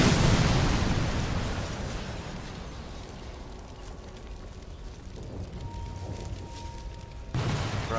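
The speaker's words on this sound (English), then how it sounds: "Truck. Nice big explosion there." A truck blows up in the shooter game Sniper Elite 4, a loud broadband boom at the start that decays into a long rumbling tail, ending with a second burst of noise.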